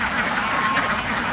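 A dense crowd of farm ducks quacks continuously at feeding time, a loud, close, overlapping chorus with no pause, and a voice faintly underneath.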